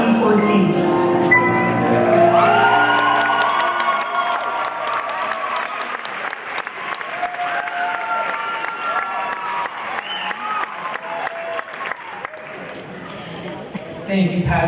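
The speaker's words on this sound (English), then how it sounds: "Thank you, Patrick, for an amazing piano performance. Round of applause." A graduation ceremony crowd breaks into sustained applause and cheering after a piano performance, dense loud clapping with voices whooping over it, continuing for well over ten seconds before thinning out near the end.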